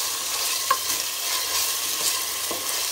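Ginger-garlic paste and onions sizzling steadily in a pan with a broad hiss, a few soft scraping stirs and light clinks, no voices, close by.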